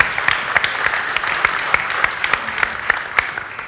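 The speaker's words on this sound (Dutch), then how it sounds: "applaus voor LeaseWeb" Audience applause for LeaseWeb at a late-night tech talk show, steady dense clapping with sharp individual claps standing out, fairly close and sustained throughout.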